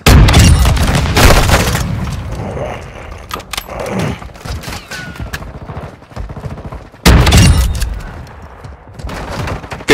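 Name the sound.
light machine gun fire in a video game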